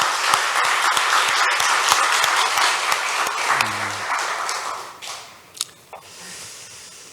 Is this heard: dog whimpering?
no